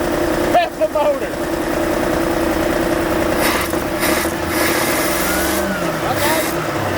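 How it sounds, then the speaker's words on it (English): Dodge D150 pickup truck engine running in a yard, a continuous rough engine drone with revving swells partway through, heard up close alongside people talking and shouting. "Rev it! Rev it! Rev the motor!"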